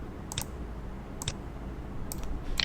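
Sparse clicks of keys on a computer keyboard while typing a command, quiet and close, landing in a few short separated bursts over faint room noise.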